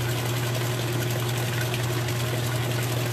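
Electric mixer whirring steadily as egg yolks are beaten into cheesecake batter, a constant close motor drone with a low hum and no pauses or talk.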